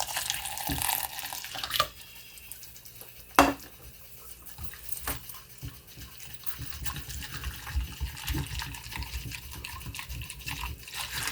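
Boiling water poured from a kettle into a bowl of dessert mix in a home kitchen, a faint, steady liquid trickle with a few soft clinks of dishes, no voices.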